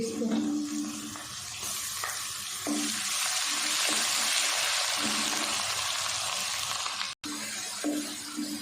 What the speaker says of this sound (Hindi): इसको भी 1 से 2 मिनट हम प्याज के साथ भून लेंगे।